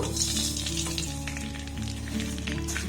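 Steady sizzle of vermicelli frying in ghee, continuous and close, with faint stirring scrapes and a low hum underneath.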